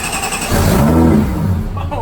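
Supercharged V6 Toyota MR2 engine catching and running, a loud close burst of rough engine noise after a brief crank, settling into a running rumble as a voice speaks over it.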